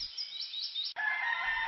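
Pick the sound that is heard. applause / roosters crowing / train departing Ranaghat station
roosters crowing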